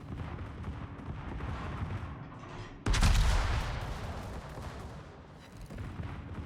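A warship's secondary guns open fire in a naval battle game, a sudden loud booming burst that rolls into a fading rumble over continuous background battle noise.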